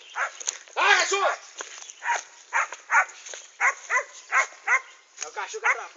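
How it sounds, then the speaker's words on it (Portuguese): A dog barks over and over in quick, strained yelps and bow-wows, close and loud, mixed with people's voices on a rural farm. "É o cachorro que atrapalha."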